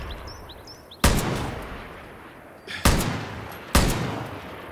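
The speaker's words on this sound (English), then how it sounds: "More panic shots." Gunshots in Far Cry New Dawn, three sharp, loud blasts spaced a second or two apart, each trailing off in a decaying echo over a quiet outdoor game background.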